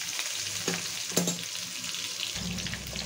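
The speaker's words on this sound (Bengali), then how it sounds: "শুধু সবজিগুলোকে আমরা একটুখানি ভেজে নেবো এর মধ্যে।" Vegetables fry in hot oil in a pan for a rohu fish curry with cumin and radhuni paste, a steady close sizzle with a couple of brief clinks of a utensil partway through.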